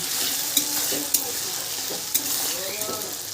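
Vegetables salted and frying lightly in oil in a village home kitchen, a steady close sizzle running throughout with a few sharp stirring clinks of a utensil against the pan.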